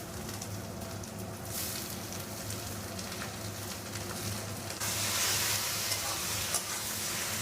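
Bombay duck fish fries with lightly browned onions in a pan and gets stirred, giving a continuous soft sizzle and scraping that grows louder and brighter partway through.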